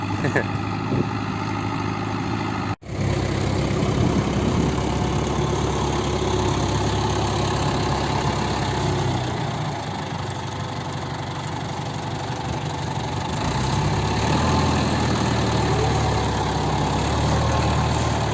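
A tractor engine idles with a steady, continuous low rumble that barely changes throughout, briefly cutting out early on.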